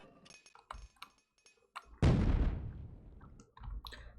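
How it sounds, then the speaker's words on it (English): In the 1997 alpha build of the shooter Unreal, a sharp grenade explosion sounds once, a loud boom that decays over about a second, with faint clicks and thunks before and after. "the explosion effect is different to the final effect"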